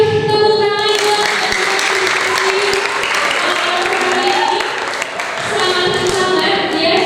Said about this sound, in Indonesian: Oke, boleh tepuk tangan buat